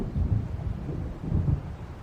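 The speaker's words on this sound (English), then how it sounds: "It seems there's a storm coming." A low, rolling rumble of thunder from an approaching storm in the video game Alan Wake, two deep swells rising and fading over a soft steady background.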